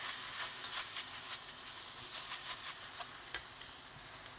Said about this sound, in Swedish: Så det kan få steka med.